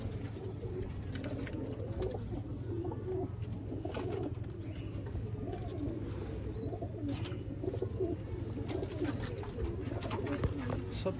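Sialkoti pigeons coo steadily throughout, a continuous layered cooing from several birds close by, with faint background noise and no clear talk.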